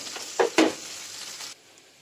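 Onions sizzle in a frying pan as a couple of sharp spatula scrapes knock against it, then the sound cuts off abruptly after a second and a half.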